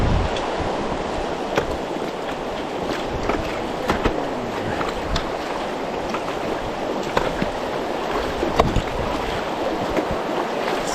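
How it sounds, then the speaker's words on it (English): A hiker wades across a river on Shuyak Island in Alaska, steady broadband rushing and splashing of water running continuously and fairly loud, with occasional sharper splashes and no talking. "And I think I can cross this river here."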